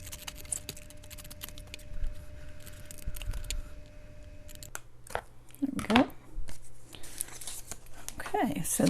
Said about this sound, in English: I'm just going to cut out the tree in the pattern